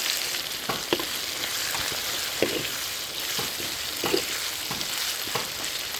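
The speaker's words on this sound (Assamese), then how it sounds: "এতিয়া মই ইয়াত ধুনীয়াকৈ চাউলখিনি দি ভাজি লৈছোঁ" Rice fries in hot oil in a pan with a steady, close sizzle, broken by repeated scraping stirs of a spatula at irregular intervals.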